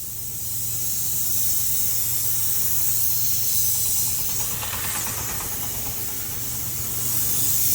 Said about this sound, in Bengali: তো বন্ধুরা, স্প্রে করা হচ্ছে, দেখতে পাচ্ছ।